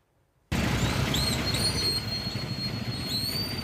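A train rolling past a closed railway level crossing gate at Painkulam, a sudden loud roar of wheels and carriages with metallic squeals, close by and steady with no talk.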